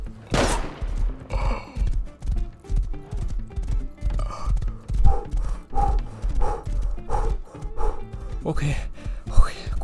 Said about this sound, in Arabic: اوكي كويس ان عندي حصان سريع